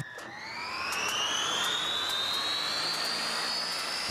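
A Sea King helicopter turbine engine fitted in a jet boat spools up, its whine rising steadily in pitch to a loud, continuous roar heard close by, with no talking.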